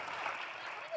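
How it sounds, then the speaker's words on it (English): A seated symposium audience gives a short, faint round of clapping for departing panelists, a thin, distant patter of hands lasting only a moment. "Another round of applause for these feminist change makers."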